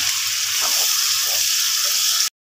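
Green chilies frying in hot ghee as the base for chicken qorma, a steady close sizzle with a fine crackling hiss that holds evenly for about two seconds, then cuts off abruptly.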